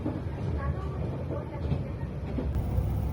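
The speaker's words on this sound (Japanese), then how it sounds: "列車は上檜内駅に到着。" A local train rumbles steadily with low, continuous rolling noise and faint mechanical squeaks, slowing as it pulls into snowy Kami-Hinokinai Station on the Akita Nairiku Line.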